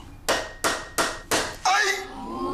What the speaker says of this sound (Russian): гвоздь легко входит в древесину